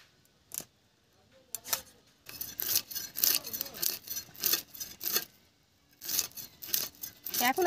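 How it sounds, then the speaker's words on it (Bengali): A knife cuts and scales fresh local rui fish with rapid rasping scrapes in irregular bursts, close and fairly loud, separated by brief pauses. "তো মাছগুলো কেটে নেব।"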